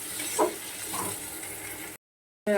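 Tomatoes fry with a pinch of salt in a pan, giving a soft, steady sizzle with a faint clink of stirring before a brief cut to silence.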